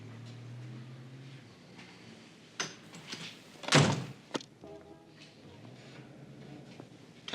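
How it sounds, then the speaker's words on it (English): A door swinging shut and landing with a solid thunk, preceded by a few softer knocks and followed by quieter shuffling in a room, with no speech. "Close the door, Vinnie."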